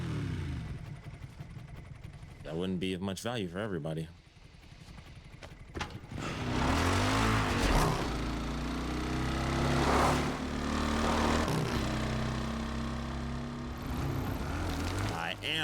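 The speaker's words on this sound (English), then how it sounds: "Thank goodness he knows how to ride a motorcycle." Motorcycle ridden through Raccoon City in Resident Evil Requiem, its engine revving and droning steadily, rising and falling in pitch, with someone talking over it.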